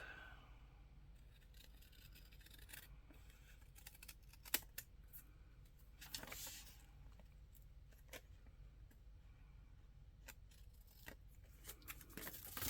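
Scissors snipping through paper in a few quiet, scattered cuts, with soft handling noises between them and no talking.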